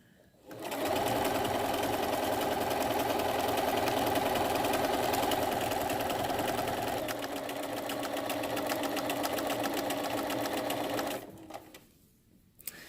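A Bernina 325 sewing machine runs close up, applying stretch binding to a fabric head sock mask. It whirs steadily for about ten seconds, changing pace slightly midway, then stops.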